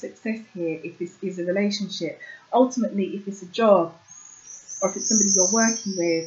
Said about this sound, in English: If you can hear birds chirping in the background